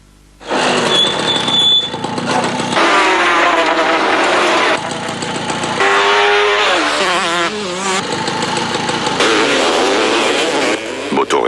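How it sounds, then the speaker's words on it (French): Racing engines from the PlayStation game Moto Racer 2 rev and whine with shifting pitch in a loud, continuous stretch, changing abruptly between shots, with a voice heard over part of it. "Moto Racer 2 sur PlayStation."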